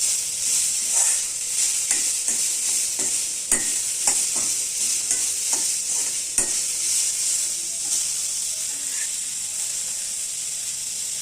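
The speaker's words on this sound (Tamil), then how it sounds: "இதிலே வெங்காயத்தையும் போட்டுக்கலாம். வெங்காயமும் ஒரு புளி போட்டுக்கலாம். ஒரு வதக்கி போட்டுடலாம்." Onions sautéing in oil for adai dosa batter, a constant bright hiss of frying with a run of quick spatula taps and scrapes near the middle, close and steady without voices.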